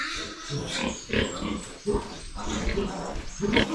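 Pigs in a farm pig pen grunt and squeal in a busy, overlapping jumble of close animal noises, with some speech faintly mixed in.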